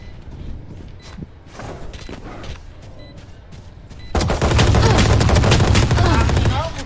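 Rapid gunfire from a shooter video game during a defuse round, starting partway through and continuing as loud sustained bursts, with faint game effects and brief talk beneath.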